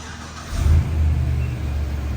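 A race car engine on a dyno that had sat unused for years comes up from a low idle into a loud, sustained rev at about half a second, holding a heavy low roar to the end.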